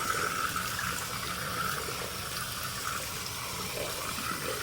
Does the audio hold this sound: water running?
yes